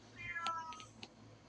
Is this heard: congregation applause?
no